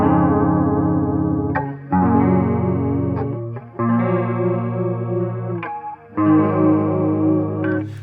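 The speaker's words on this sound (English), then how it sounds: "you've got chorus on, neck pickup here, and you've got the distortion off." Electric guitar played clean through a chorus effect on the neck pickup with distortion off, strumming sustained shimmering chords in four loud phrases separated by short pauses.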